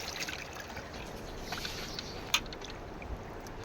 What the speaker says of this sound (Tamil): தொட்டியில் இருக்கிற தண்ணியை எடுத்து கழுவிக்கிறோம்.